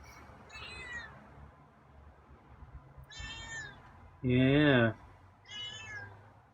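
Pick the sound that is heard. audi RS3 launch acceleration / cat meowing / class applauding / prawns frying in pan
cat meowing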